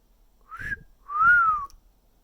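Close human whistling in two phrases, a quick upward note and then a longer swooping tone that climbs and falls, clear and prominent over a quiet background.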